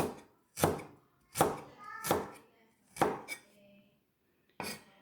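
Fresh ginger chopped on a board: five sharp, close knife strikes in an uneven rhythm, with brief pauses between them, in a quiet kitchen.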